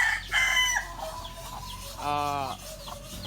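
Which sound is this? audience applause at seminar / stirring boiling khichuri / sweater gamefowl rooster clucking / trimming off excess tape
sweater gamefowl rooster clucking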